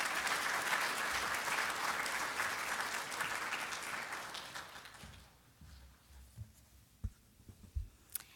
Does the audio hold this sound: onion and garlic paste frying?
no